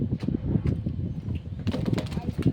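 Pigeons coo in short low murmurs close by, mixed with brief rustles and possible wing flutters, while people talk over them.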